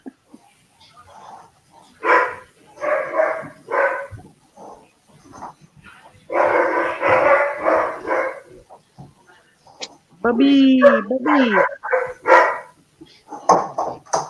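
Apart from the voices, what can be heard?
dog barking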